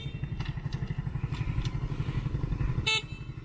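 A motorcycle engine idles with a low, steady putter up close, and a short horn toot sounds near the end.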